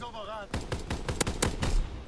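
Bren light machine gun in a video game firing a rapid burst of sharp, loud shots in close succession, about a dozen cracks over two seconds right after a short musical tone.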